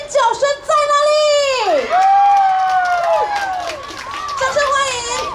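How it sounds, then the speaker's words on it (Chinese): An outdoor audience at a Mid-Autumn festival stage show at Taichung's Dadun Cultural Center screams, whoops and cheers loudly. The shrill, rising and falling shouts from many people are close and sustained, with no break for several seconds. "你们的尖叫声在哪里？"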